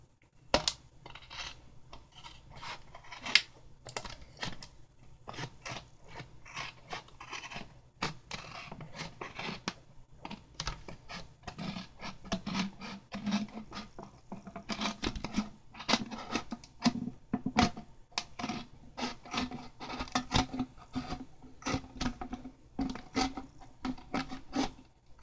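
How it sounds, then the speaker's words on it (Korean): Scissors snip and rasp through plastic while cutting out a water rocket skirt, with many quick crisp cuts and rustles in an irregular stream, close and quiet, and no voices. "이 선에 가위 날이 잘 닿도록 봐주시면서 잘라야 돼요"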